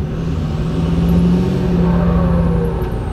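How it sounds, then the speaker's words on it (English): A turbocharged truck's engine holds a steady low drone, while a faint rising and falling hiss from the blow-off valve venting off throttle sits high above it, with no talking. "the louder and faster the blow-off valve is gonna go off"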